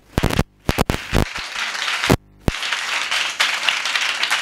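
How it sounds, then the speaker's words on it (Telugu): A church congregation bursting into applause during a Sunday sermon, loud sharp clapping in short bursts with brief gaps, then a sustained dense wave of hands clapping close and full. "Big claps to lord Jesus once again."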